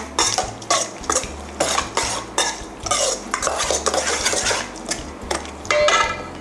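A spoon stirs a Thai eggplant salad dressing of sugar, lime juice and fish sauce in a bowl, clinking and scraping in repeated strokes, close and fairly loud, with no talk.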